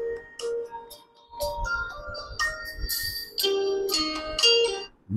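A Tecno Spark Go 1 smartphone plays a bright melodic ringtone through its dual speakers, with chiming synthetic notes and beats rising and falling for several seconds at moderate loudness.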